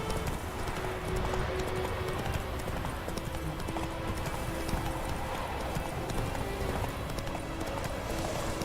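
A horse gallops in The Witcher 3, its rapid, even hoofbeats running steadily and close throughout over a dense game soundscape, with no voices.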